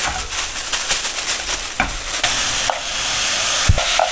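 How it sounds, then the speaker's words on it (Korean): Chadolbaegi, thin-sliced beef brisket, sizzles and hisses loudly as it is stir-fried in a pot for doenjang stew, with a few sharp clinks and scrapes of the spoon stirring the meat. "차돌박이를 볶으시다가"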